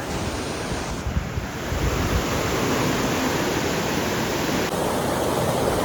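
Heavy rainwater rushes loudly through a large drain in Korea during a downpour, a steady broadband roar that fills the whole clip without a break.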